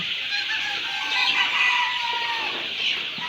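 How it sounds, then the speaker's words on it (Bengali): Month-old Egyptian Fayoumi chicks on a Fayoumi poultry farm in Habiganj, Bangladesh, give a dense, steady chorus of high, thin peeps and chirps that overlap throughout. The sound is close and fairly loud, with no talking. "আপনারা যে মুরগিগুলো দেখতে পারতেছেন এগুলো হচ্ছে এক মাসের মিশরীয় ফার্মি মুরগির বাচ্চা"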